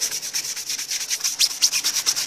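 A brush scrubs a dirty tire coated in cleaner with quick, rhythmic back-and-forth strokes, close and steady with no talk.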